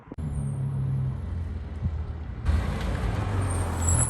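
Porsche GT4 pulling away from a car show, a steady low engine drone that swells louder partway through as the car moves off, with no talking.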